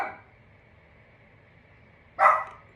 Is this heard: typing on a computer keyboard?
no